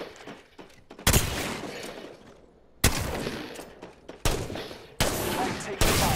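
Bursts of shotgun and automatic gunfire in the battle royale video game Apex Legends during a shotgun showdown, several loud blasts with sharp onsets about every one to two seconds and sustained crackle between them.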